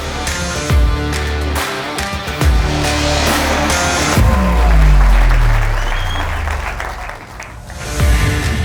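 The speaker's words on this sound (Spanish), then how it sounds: "Recibamos con un gran aplauso en este escenario al conductor del programa" A large audience applauds loudly and continuously as a program host and journalist is welcomed onto a stage, a dense wash of clapping that swells in the middle and holds throughout.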